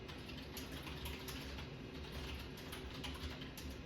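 Typing on a computer keyboard, quiet continuous clicking of keys at an uneven quick pace, faint and close, with no voices.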